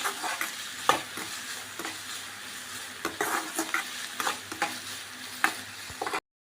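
Onions sizzle softly in a pan for a homemade samosa filling, with a spoon scraping and stirring in irregular close strokes over the steady frying hiss, then silence at the very end.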